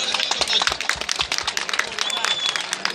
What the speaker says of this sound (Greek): Ένα χειροκρότημα για τον πρόεδρο.